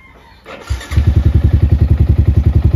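A Yamaha Sniper 155 motorcycle engine cranks and fires up close by, then settles into a steady, rapid, thumping idle with no talk.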